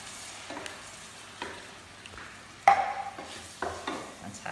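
Chopped tomatoes drop into a pan of Bolognese sauce, and there is a sharp splash and sizzle partway through, then soft stirring and scraping; the sounds are close and moderately loud with no talking.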